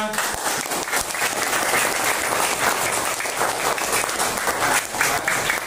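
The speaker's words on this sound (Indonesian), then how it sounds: "Ya, tepuk tangannya mana?" Students in a school classroom applaud continuously, a close, dense wash of many clapping hands with no pauses.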